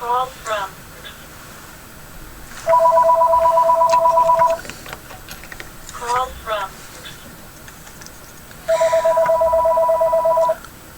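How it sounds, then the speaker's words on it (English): A telephone rings in repeated electronic warbling bursts, each lasting about two seconds with quieter chirps between them, close and clear above faint background handling sounds. "I apologize for the phone ringing."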